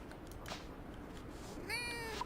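A cat meows in the farming video game Fields of Mistria: one short, bright in-game meow near the end, over a soft background bed.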